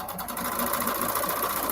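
A sewing machine runs steadily, stitching pieces of a patriotic quilted placemat together in a continuous, even whir that carries on without a pause.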